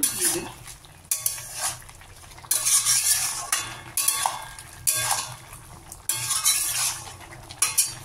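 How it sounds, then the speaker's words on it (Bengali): A spatula stirs boiled potato, ridge gourd and pointed gourd in a pan, with repeated scraping and clattering bursts that come in an uneven rhythm, close and steady, with a soft sizzle underneath. "ভালো করে করে নাড়বো"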